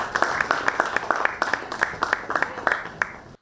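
A small audience at a Diwali fans' meet claps to welcome a guest back onto the stage. The clapping is close, sparse and rhythmic, with distinct individual claps repeating steadily for a few seconds before stopping abruptly.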